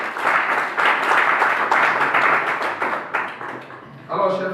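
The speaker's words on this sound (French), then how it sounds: "C'est à applaudir aussi." Audience applause at a gathering of the Ivorian community in Sousse, Tunisia, a lively burst of many hands clapping with some rhythmic surges, fading near the end as a voice begins speaking.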